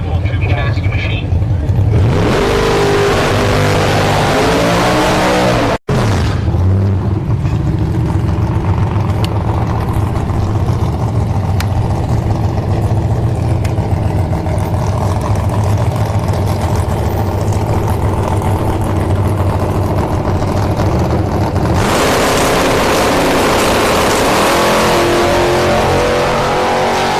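A Dodge Dakota extended cab tube chassis drag racing truck roars loudly and steadily at a speedway, engine noise continuous with a brief break, under an announcer's voice.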